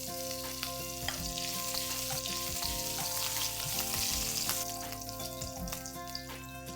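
Asafoetida and curry leaves sizzle in very hot oil, a steady loud frying hiss broken by sharp spattering pops and occasional scraping stirs, close up with no voices.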